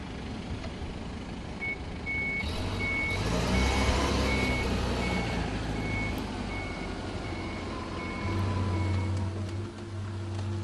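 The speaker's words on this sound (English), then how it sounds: "Reverse is then selected, the inch brake released, and the accelerator pressed down to back away." A Linde forklift backing away from a storage rack, its reversing alarm giving a steady series of evenly spaced beeps over a low engine hum and mechanical noise, fairly close, with no speech.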